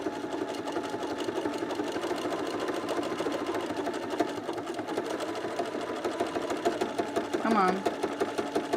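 A sewing machine stitches a pair of pants in a steady, close-up mechanical whir of rapid needle strokes, running continuously throughout with a brief spoken word near the end.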